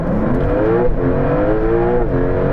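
A Porsche 911 Turbo S and a Ferrari 296 accelerate in a drag race from a first-gear roll at ten miles an hour, a loud, steady engine drone rising through the gears with brief shift dips, heard close and alone.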